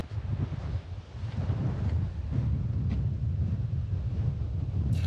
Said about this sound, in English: the sun hasn't risen yet and there's a biting wind.